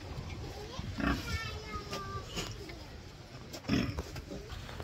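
Pigs grunting and snorting close by, with a couple of louder squeal-like grunts amid a noisy barnyard background and faint talk.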